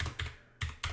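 Heavy, loud computer keyboard keystrokes come in short clattering bursts of typing, close up, with no voices.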